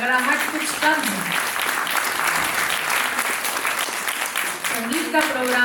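Audience applause fills a music-program event hall, a steady wash of clapping hands throughout, with brief voice-like tones over it at the start and end.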